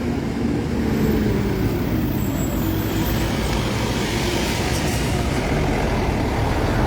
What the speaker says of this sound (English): I'll wait until the truck passes.